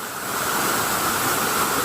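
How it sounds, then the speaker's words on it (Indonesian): A second waterfall roars steadily, a dense broadband rush of falling water that stays loud and constant throughout, with no voices. "ini air terjun yang kedua."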